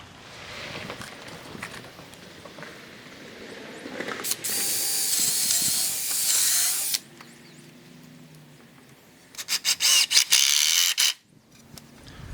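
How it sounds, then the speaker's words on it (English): A power drill drives screws into 2x4 rungs of a homemade motorcycle ramp: two loud whirring bursts with ratcheting stutters, separated by quieter handling noise and no talk. "I'm going to do a pilot hole and then put in one screw per side on each rung."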